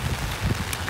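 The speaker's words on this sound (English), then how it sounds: "It's raining" Steady rain falling outdoors, a brief close hiss of patter and drops with some low rumble and wind noise on the microphone.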